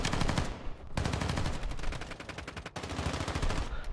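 Continuous rapid automatic gunfire from decoy grenades in Call of Duty: Modern Warfare II, dense and loud with brief gaps, no talk.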